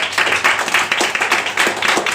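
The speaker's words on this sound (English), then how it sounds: "Let's give Shona an applause." An audience at a speakers' club meeting claps in a short, even burst, close and fairly loud, with no talk over it.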